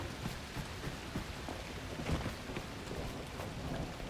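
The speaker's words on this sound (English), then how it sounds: "Foggy and rain." Steady rain hisses in foggy weather in the video game The Last Caretaker, a dense even patter with faint rumbles like distant thunder and no voices.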